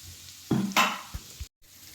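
Mixed spice powder frying in a pan for pepper garlic tomato rasam gives two short, close bursts of sizzle and stirring, then soft knocks and a brief silent gap.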